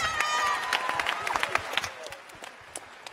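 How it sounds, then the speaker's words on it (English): An audience at an improv show claps together, a dense patter of hands with a few cheers that fades over a few seconds. "Everyone, give them a round of applause."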